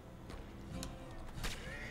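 A horse in Red Dead Redemption 2 gives short whinnies, with two bright bursts against a low background of game ambience and faint hoof sounds, fairly quiet overall.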